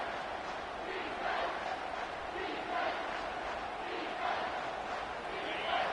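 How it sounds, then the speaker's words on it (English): A college football stadium crowd roars through a third-down defensive stand in the red zone, a dense, steady wall of cheering with a few surging swells, broad and loud throughout. "this crowd is tearing the lid off this place"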